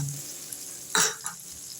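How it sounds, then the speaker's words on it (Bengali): Spice paste for fish curry fries in a pan with a low, quiet sizzle, broken by one brief louder scrape or stir near the middle and a softer one after. "মশলাটা যে গুলে রেখেছিলাম এর মধ্যে মশলাটা দিয়ে দিলাম এই মশলাটা আমি ঢেকে ঢেকে পনেরো মিনিট কষিয়ে দিব"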